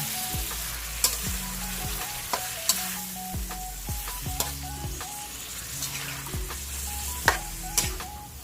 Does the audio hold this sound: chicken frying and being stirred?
yes